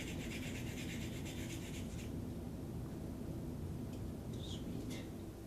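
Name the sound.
peeling carrots with a vegetable peeler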